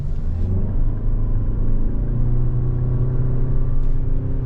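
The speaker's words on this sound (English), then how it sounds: "Let's see if it does anything different in sport." A 2024 Toyota Venza XLE pulls away from a stop in sport mode, and a steady, loud engine and road rumble is heard from inside the cabin with no voices.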